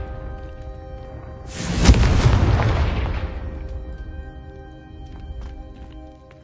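The Confringo fire spell in Hogwarts Legacy on PS4 goes off as a single loud, close explosive burst that booms and then fades over a couple of seconds, with no talking.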